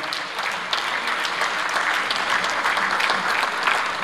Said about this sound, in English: Let's once again clap our hands for Excellency Thabo Mbeki.